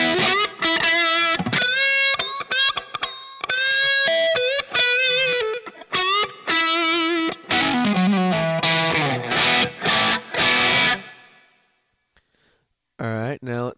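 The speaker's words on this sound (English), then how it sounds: "Let's hear the tube screamer." Electric guitar run through a Tube Screamer overdrive model on a Line 6 Pod HD500, crunchy, loud and close, playing phrased chords and single notes in bursts with short gaps, then fading out before a final brief strum.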